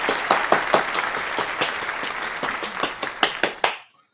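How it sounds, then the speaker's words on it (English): An audience applauds and claps with sharp, dense hand claps at close range, then stops abruptly. "clap it up, man"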